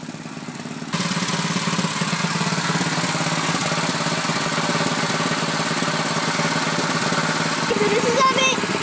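A small engine starts after a brief quiet moment, then runs at a steady, buzzing idle with a constant rattling drone, close and loud to the end.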